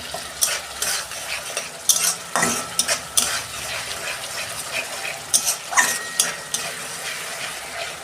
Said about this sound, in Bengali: এইটা দিয়ে আমি 5 মিনিট মতন কষাবো, যতক্ষণ না তেল ছাড়ে